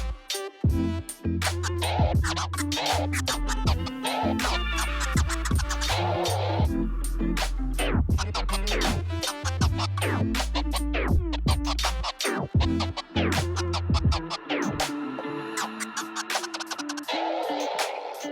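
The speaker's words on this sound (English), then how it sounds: "Notice how I'm leaving silences in between my scratches so that there's not a constant wall of sound." Rapid turntable scratches cut back and forth over a looping beat, broken up by short deliberate gaps between bursts.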